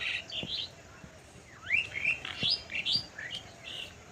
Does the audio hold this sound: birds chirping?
yes